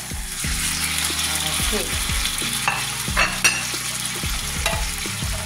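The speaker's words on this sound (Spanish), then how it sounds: "Vamos a poner los solomillos, ¿vale? Con una gota de aceite, ¿eh?" Turkey sirloins frying in a pan with a drop of hot oil, a steady close sizzle with stirring and scraping clatter throughout, while a person speaks briefly.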